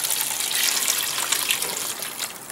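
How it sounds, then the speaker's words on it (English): Aquaponic water is poured into a tray to water garden plants from the bottom, a steady close splashing gush running for a couple of seconds with no talk. "Water them from the bottom with some of the aquaponic water."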